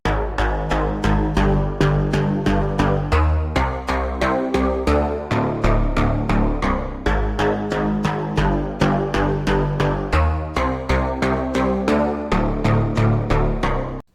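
A plucked bass line in a hip-hop beat runs steadily as a loud, close, busy pattern of short bass notes driven by rapid repeated percussive hits, with no talking.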